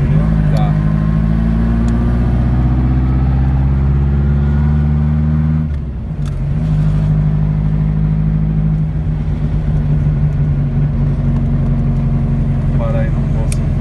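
Volkswagen Fusca with a 2.3 cc Aspro fuel-injected engine, FT 500 injection and roller rockers, running with a loud, steady low rumble that briefly dips in the middle before settling back, while people talk nearby.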